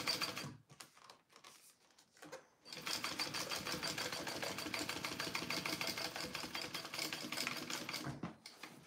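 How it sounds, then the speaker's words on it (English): A sewing machine stitching a clear vinyl pouch runs in a fast steady whir after a few short stop-start bursts, then halts near the end; close and fairly loud, with no talking. "now I'm just gonna sew all around it and box my corners"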